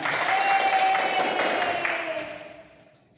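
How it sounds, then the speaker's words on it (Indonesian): Applause in a primary-school civics lesson setting after a national patriotic song, a steady wash of many hands clapping with faint tonal sounds beneath, fading out gradually. "Dan tepuk tangan."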